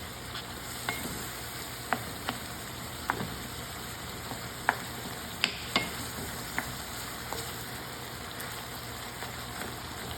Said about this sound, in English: We cook the ground beef for 5 minutes